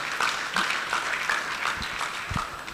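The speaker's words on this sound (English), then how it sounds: "a round of applause for her." An audience at a career clinic in Enugu gives a short burst of steady applause, moderately loud and fairly close, with no voices over it.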